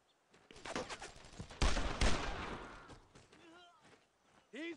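Bursts of gunfire from the World War II shooter Brothers in Arms: Road to Hill 30, with a loud volley of shots in the middle over a dense battle din, while game voices talk around it.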